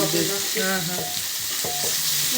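Food sizzles and crackles steadily in a hot pot, with a few clinks of stirring mixed in.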